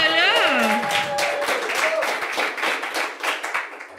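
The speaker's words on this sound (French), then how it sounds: "Fait qu'on peut applaudir Marie" A studio audience at a union podcast taping gives brief applause and clapping for a guest, heard under and between overlapping voices and laughter.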